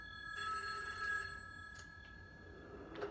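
In the Stranger Things VR game, an old-fashioned telephone bell rings in a sustained electronic burst, then short fainter rings follow in a quiet, eerie room.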